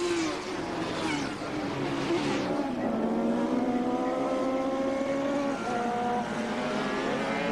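Motorbikes racing at the 1984 Gracefield street race, engines droning steadily with pitch shifting as bikes pass and rev, a continuous loud race-track roar throughout.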